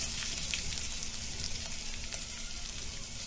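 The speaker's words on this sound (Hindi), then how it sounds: "अभी करी पत्ता डालेंगे।" Curry leaves hitting hot oil with chillies, mustard seeds, cumin and turmeric for a tempering, giving a steady, close, crackling sizzle that holds evenly throughout with no talk.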